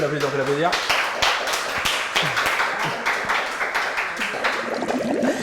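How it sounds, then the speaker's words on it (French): Studio audience applauds a contestant on a French cooking show, dense clapping running steadily throughout with voices and a brief vocal tone at the start. "On peut applaudir encore une fois Chrissy."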